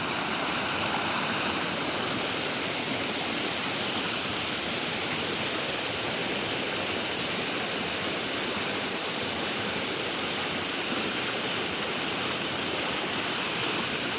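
Creek water rushes continuously past a collapsed dam, a dense, even roar of flowing water that holds steady throughout with no voices.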